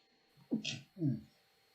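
A single sharp sneeze with a hissy burst, followed right after by a short spoken phrase nearby.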